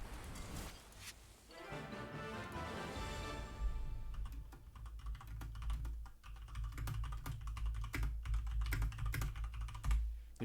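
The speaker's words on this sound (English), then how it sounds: "If you just heard me typing, no you didn't." Rapid clicking of a computer keyboard being typed on during a Yu-Gi-Oh! Master Duel match, close and steady throughout, layered over game background music with no talking.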